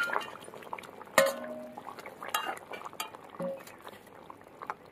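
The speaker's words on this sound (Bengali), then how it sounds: "এই যে ঝোল ফুটে উঠেছে" A pot of rohu fish curry broth with green tomato bubbles at a low simmer, with soft gurgles and pops, plus a sharp metallic clink of utensils against the pot and a few lighter clinks nearby.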